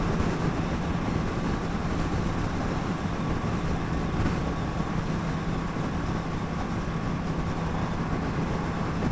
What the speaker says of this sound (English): The engine certainly sounds smoother.